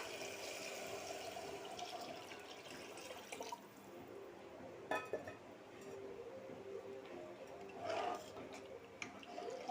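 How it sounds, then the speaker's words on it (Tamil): One and a half cups of water pour steadily into a cooking pot for rice kushka, a gurgling splashing stream that shifts partway through, close and moderately quiet with no talking. "ஒன்றரை கப்பு தண்ணி எடுத்து வச்சுருக்கேன் ஊற்றிடலாம்"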